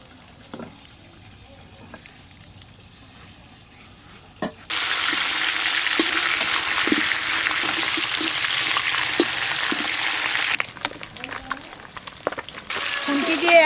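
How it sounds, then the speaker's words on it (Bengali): Silver carp fish heads drop into hot oil and start frying about four seconds in, with a sudden loud, dense sizzle that carries on steadily and is broken by faint clinks and scrapes before it eases near the end. "এবার মাছের মাথা খুব ভালো করে লাল লাল করে ভেজে নেব।"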